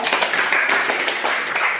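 Classmates clap for a student in a classroom, a steady patter of many hands lasting a couple of seconds, fairly close and even throughout with no talk over it.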